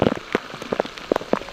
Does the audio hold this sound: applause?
no